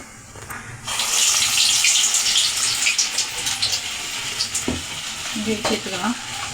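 Vada batter drops into hot oil in a kadai and erupts into a loud, dense sizzle that stays bubbling and crackling close up, with a few light utensil knocks as it settles.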